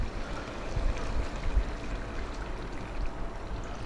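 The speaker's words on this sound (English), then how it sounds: "Okay, now water, quite a lot now." Plenty of water is poured steadily into a cooking pot of Ethiopian meat and potato stew, a continuous soft rushing splash that lasts a few seconds at close range.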